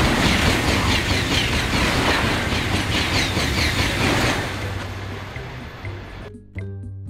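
A fast train in the Theme Park Tycoon 2 video game rumbles steadily along its test track with a dense, loud roar that eases off toward the end before a sudden cut.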